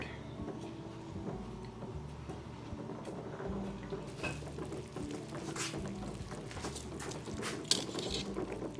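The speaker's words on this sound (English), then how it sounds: "I'm going to stir it to dissolve all of the sugar" Squash relish brine with sugar being stirred in a pot on the stove, a steady run of light clinks, taps and scrapes from the utensil against the pot, close by, with no talk.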